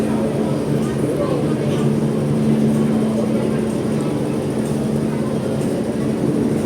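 Hong Kong MTR train between Lok Fu and Kowloon Tong stations, a steady loud rumble and hum of the carriage in motion heard from inside, with no pauses.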